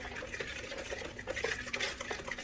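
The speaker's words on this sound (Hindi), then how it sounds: "आपस में अच्छे से इसको मिक्स कर देंगे।" Chicken being mixed by hand in a bowl with its marinade and a little yellow food colour for an oven-roasted whole chicken chargah, giving a close, continuous soft wet squelching and stirring with no talk.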